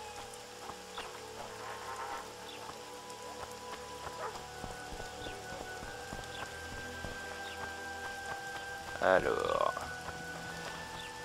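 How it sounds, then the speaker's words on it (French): Steady rain falls in a dark fantasy role-playing game, a soft continuous patter under quiet ambience, with a brief louder splash or rustle near the end and a few spoken words early on. "il pleut"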